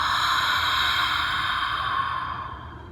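A slow, breathy ujjayi exhale through a constricted throat, the airy hiss of fogging breath sustained close to the microphone and gradually tapering off at the end.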